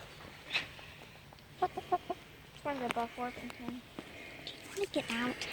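Hens on a homestead cluck in short, stuttering bursts, several birds close by, with brief pauses between rounds and a quiet background.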